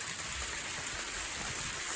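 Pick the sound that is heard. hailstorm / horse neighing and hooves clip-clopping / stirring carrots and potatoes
hailstorm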